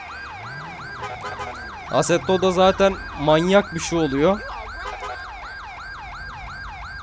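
A wailing ambulance siren from a GTA 5 ambulance mod cycles steadily and loudly throughout, with someone talking over it in the middle.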